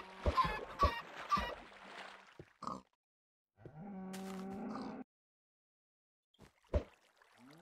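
Chickens in a video game, floating in water, cluck in short clipped bursts, with a brief buzzing tone and a few isolated clicks in between, heard alone at low volume.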